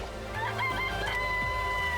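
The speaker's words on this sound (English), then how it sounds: "It's a chicken." Chicken in the video game Danganronpa, a short clucking, crowing call over a steady game backdrop, fairly close and clear, with no talk.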